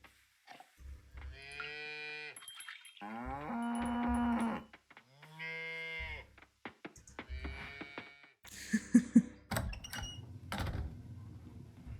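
Several video game cows moo loudly in turn, long drawn-out lowing calls, followed by clattering and tapping noises.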